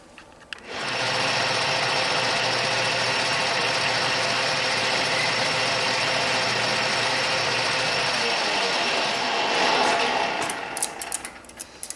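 A metal lathe cuts grooves and chamfers into a part, making a sustained, loud, even mechanical whir with a faint rhythmic ratcheting texture for about ten seconds before winding down.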